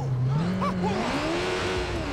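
A car is driven in the video game Watch Dogs 2, its engine tone climbing steadily as it accelerates, with a brief squeal of tires near the start, loud and close.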